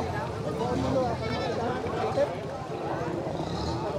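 Goats bleating at a busy livestock market in Negros, faint calls mixed into a dense crowd murmur, with people talking nearby.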